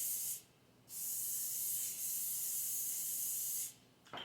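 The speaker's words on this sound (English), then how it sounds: "I'm going to put some butter flavored Pam in there" Butter-flavored Pam cooking spray is shot into a hot skillet: a short hissing burst, a brief pause, then a long steady spray of about three seconds, with another burst starting at the end.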